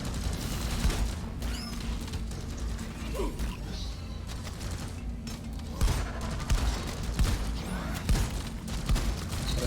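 An engineer's automated turret in the sci-fi shooter Deep Rock Galactic fires in rapid bursts amid dense mechanical clatter and combat noise, the gunfire swelling louder in the latter half of the scene.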